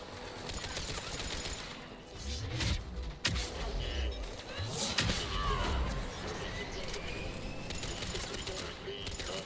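Gunfire in the Mass Effect 3 video game, with bursts of shots and impacts over a steady din of combat noise, with loud booms around two and five seconds and sporadic rattling throughout.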